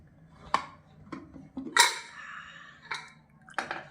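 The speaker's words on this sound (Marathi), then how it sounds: "चला, कुकर थंड झालाय का बघूया." A cooled pressure cooker is opened in a village kitchen while making a jackfruit and cashew dish: sharp metal clanks of the lid, then a short hiss of escaping steam, followed by more scattered clinks.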